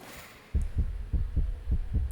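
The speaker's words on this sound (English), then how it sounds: "Oh my god, the heartbeat." Heartbeat sound effect from the video game Monster Prom: a steady series of six deep, thudding low pulses at an even rhythm, loud and alone after a brief quiet start.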